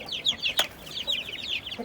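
Chickens and young rooster chicks, Indonesian roosters among them, chirp and cluck inside a coop in a rapid run of close, bright calls, with one sharper squawk partway through and no talk.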